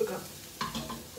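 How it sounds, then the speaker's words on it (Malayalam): Coconut oil poured into a hot pan, producing a short soft sizzle and a few light stirring sounds close by. "കുറച്ച് വെളിച്ചെണ്ണ ഒഴിച്ചു കൊടുക്കാം,"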